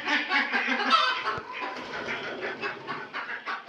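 Chickens in a coop raise a loud, continuous racket of clucking and squawking, dense and close throughout, with no talk over it.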